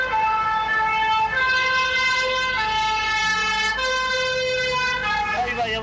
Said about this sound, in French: Là, il va y avoir un défilé d'ambulances.